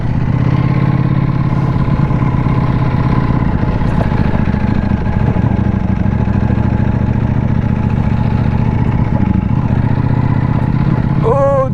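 Ducati Panigale V4S motorcycle ridden spiritedly through city streets near a busy arena, its engine a steady close low drone throughout with wind noise and no talk.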